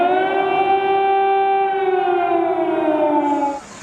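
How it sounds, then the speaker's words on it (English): A long air raid siren wail in Ukraine's capital during a Russian assault holds a steady tone, then slowly falls in pitch before cutting off near the end. "where they awoke this morning to more sirens"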